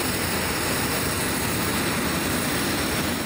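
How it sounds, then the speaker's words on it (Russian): An airplane approaches a runway, its engine roar a loud, steady wash of noise that stays level throughout without any break. "И вот уже показался самолет"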